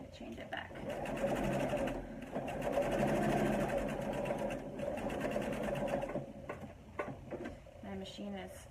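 A home sewing machine stitches knit fabric with a steady, fast mechanical whir that runs nearly the whole time and slows toward the end, with a few clicks at the close.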